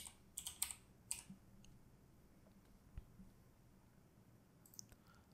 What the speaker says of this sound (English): I'm gonna type in Stargate.